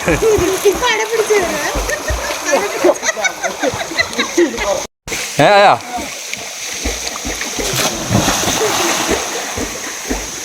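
Splashing from people swimming and jumping into a stream runs throughout, close and lively, with excited voices and shouting over the water. A brief dropout sits near the middle.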